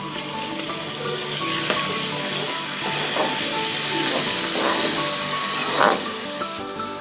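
Green peppers and tomatoes fry with garlic and dried coriander paste in a keema pan, giving a steady close sizzle with occasional stirring scrapes and pops throughout.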